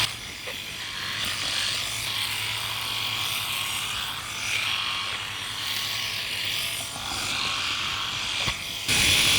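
A Philips Series 5000 rotary electric shaver buzzes steadily across stubble, a close, continuous whirring hum with faint rasping as the heads move over the skin.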